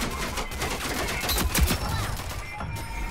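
Scattered gunshots in the team shooter Rogue Company, several sharp cracks over a steady background of game noise, moderately loud, with a stronger hit near the middle.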